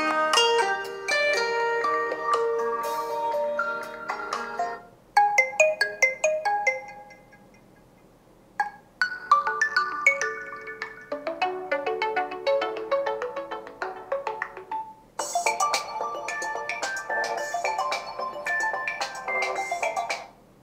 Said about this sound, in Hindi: यहाँ पर इसकी कुछ रिंगटोन्स चला लेते हैं और देखते हैं कैसी स्पीकर की क्वालिटी में मिलने वाली है।